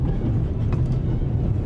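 A moving train in The Raven: Legacy of a Master Thief rumbles steadily with a low, even drone and faint rattling, no voices present.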